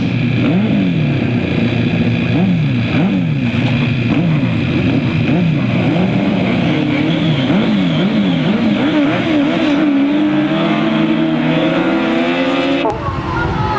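Several 1000cc sidecar grasstrack outfits leave the start line together, their engines loud and close, rising and falling in repeated revving waves before the pack pulls away. A commentator talks over the roar.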